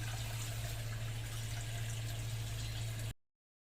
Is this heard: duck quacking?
no